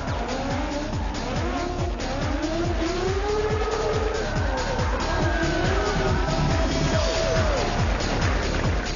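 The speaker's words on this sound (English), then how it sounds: "His customized ride showed power and precision as he hunted down Yung here." A customized drift car skids through a Formula Drift battle in Singapore, a loud continuous engine roar with tire squeal and rising, falling revs across the whole stretch, steady and close with no voices.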